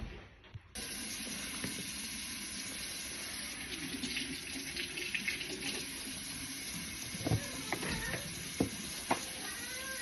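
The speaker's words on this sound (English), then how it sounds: "Let's rinse." Water runs steadily from a kitchen tap into a sink during rinsing, a continuous broadband rush lasting throughout with a few louder splashes and clatters near the end.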